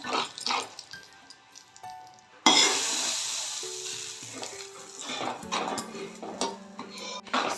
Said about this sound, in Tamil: கடுகு வரமிளகாய் உளுத்தம் பருப்பு தாளித்து கொட்டிடுவோம்